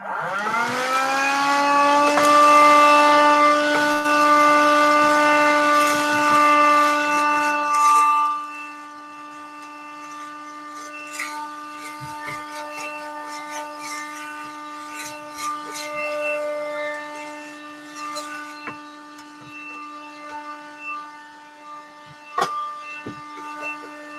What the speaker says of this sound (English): let me just quickly vacuum this